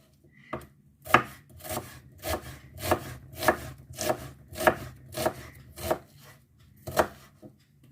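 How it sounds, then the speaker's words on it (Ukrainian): An onion being chopped into quarters with a knife on a board, about a dozen crisp, evenly spaced chops, close and clear with no talking. "Тепер нарізаємо цибульку, теж так само на четвертинки"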